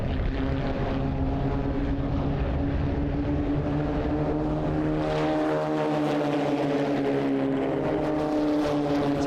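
Race cars from a WA Sporting Car Club round at CARCO.com.au Raceway run nose to tail through a turn, a loud sustained engine drone that rises and falls in pitch as the cars pass, with no talk.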